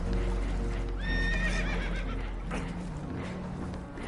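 Spooked horses in the video game Red Dead Redemption 2 let out a loud, shrill whinny that rises and trembles, with a rumbling, watery background and faint hoof-like knocks.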